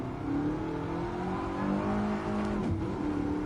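A Ford GT's engine in the racing game Gran Turismo Sport roars steadily and loudly, its pitch rising and shifting as it revs through a continuous run, with no voices over it.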